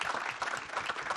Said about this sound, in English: So just a real quick round of applause for Alexa.